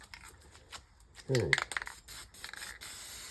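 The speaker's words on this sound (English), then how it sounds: "Spray a load of white down." White paint sprays onto a painting in a hissing burst, with quieter scraping and rubbing sounds and faint background noise around it.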